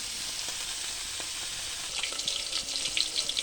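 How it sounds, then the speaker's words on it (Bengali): Fish frying in a pan gives a steady, close sizzle with bright crackling pops that grow busier toward the end, alongside occasional soft clinks. No one speaks. "মাছটা ভাজা করে নিচ্ছি।"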